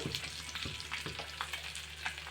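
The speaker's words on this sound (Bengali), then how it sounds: "এই যে বন্ধুরা দেখুন সুন্দরভাবে এর মধ্যে ভেজে নিব" Small hilsa fish fry in oil with a steady, close sizzle and crackle, and faint stirring or spatula scrapes come through at intervals.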